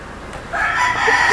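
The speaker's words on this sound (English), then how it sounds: "That's the epic rooster crow I heard this morning." A rooster crows once, rising loudly from faint background noise, close by and clear.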